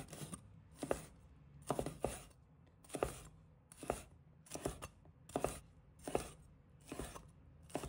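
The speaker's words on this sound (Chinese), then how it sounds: "我们再准备青红辣椒，把它切成小块" A knife chops green and red chili peppers into small pieces on a cutting board, about a dozen crisp, evenly spaced thuds in a steady rhythm, close and clear with no talk.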